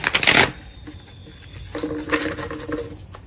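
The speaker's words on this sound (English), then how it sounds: "Just going to shuffle one more time so we can get a good reading." Two bursts of riffling tarot cards, a fast crisp flutter at the start and a softer, longer one later, with light tapping between.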